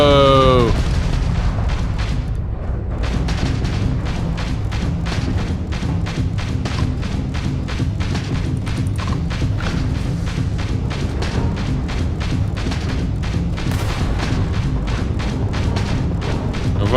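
Heavy booming blasts and thuds rumble through a Starfield space battle, with dense rapid impacts and rolling explosions layered under someone talking over the action.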